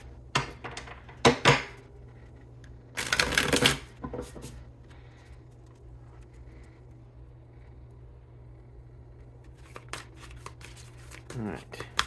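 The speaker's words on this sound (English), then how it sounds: "Let's do one more good shuffle." A tarot card deck being shuffled, with short crisp riffling bursts of cards separated by quiet pauses, close up, while a faint low hum sits underneath.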